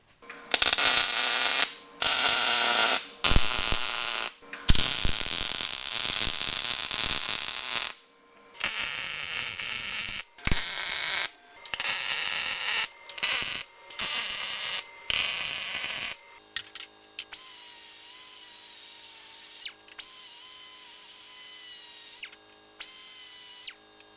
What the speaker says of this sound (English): We're going to go ahead and weld it on now.